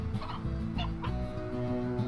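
Chicken clucking in the video game Slime Rancher: several short, close clucks over a constant background hum of game music, with no talk.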